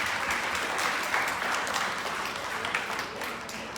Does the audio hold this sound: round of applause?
yes